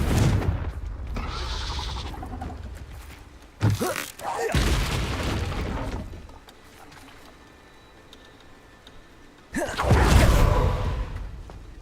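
A Confringo spell blast in Hogwarts Legacy lands as a sudden booming burst with a whooshing rush, one impact near the middle and another heavier blast later, with game noise and some talk between.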